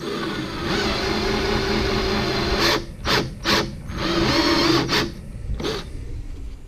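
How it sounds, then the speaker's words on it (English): A power drill bores a small countersink hole in a transducer mount, whirring steadily, then broken into several short bursts separated by brief pauses, loud and close. "I'm going to drill that."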